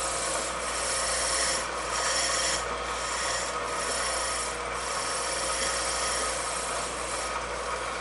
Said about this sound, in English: Do a light sanding.